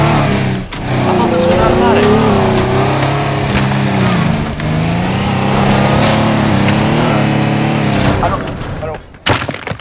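A Lamborghini drives in the video game Teardown, its engine droning and revving steadily under loud, almost continuous talking, before cutting out near the end.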